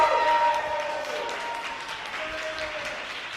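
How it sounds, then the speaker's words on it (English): An audience applauds a Korean school's performance at a community event, a sustained crowd clap with a whistle-like tone and a cheer over it at the start, gradually easing off. "Let's have another round of applause for the Korean School of Southern New Jersey."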